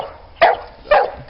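A dog barking at a lawn mower: two sharp, loud barks about half a second apart, close by, with no talking.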